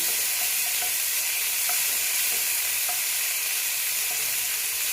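Grated onion paste hits hot oil for a Bengali katla fish curry, setting off a loud, constant hissing sizzle that holds steady throughout, with a few faint clicks beneath.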